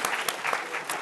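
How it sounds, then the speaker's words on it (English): Applause from a classroom audience for speaker Daniela at the close of a talk on helpful, honest, harmless AI: a dense burst of steady clapping lasting about a second, a few sharper individual claps standing out. "let's give Daniela a huge round of applause"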